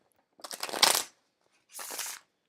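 Oracle cards are shuffled in two quick, soft riffling bursts separated by a short pause, heard close and alone with no talking.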